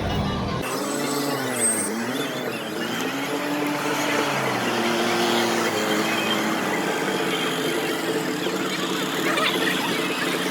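Tractors, JCB excavators and auto-rickshaws move through a crowded village festival, giving a steady, loud blend of engine rumble and crowd noise that continues throughout.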